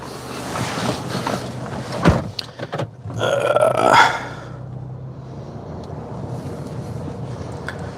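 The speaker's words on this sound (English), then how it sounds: "There's a car coming." A car passes on an open Florida road, its rush swelling briefly and loudly before fading back into steady wind noise buffeting the microphone.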